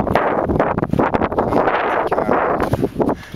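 Wind gusts buffet the microphone outdoors near Nelson, British Columbia, a loud, rumbling, uneven roar that surges and drops off toward the end.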